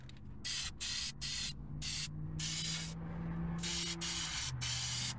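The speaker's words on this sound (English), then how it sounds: "that pump looks a lot better painted up. And I just sprayed the side of that." Aerosol spray paint hissing onto the side of a pump at a car detailing shop, a close series of short bursts in steady rhythm, each lasting about half a second with brief gaps between.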